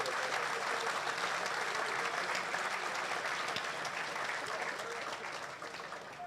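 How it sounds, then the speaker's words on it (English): Crowd applauding at a stadium topping-off ceremony, dense outdoor clapping that runs continuously at full strength before easing slightly near the end. "Let's give them a round of applause."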